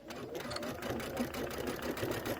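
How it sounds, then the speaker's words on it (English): A sewing machine stitches fabric for a storybook pocket pillow, a steady close mechanical whir with a fast even needle rhythm running throughout. "And let's go ahead and sew."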